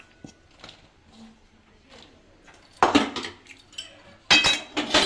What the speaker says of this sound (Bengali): এবার খুন্তি দিয়ে ভালো করে মিশিয়ে নেব।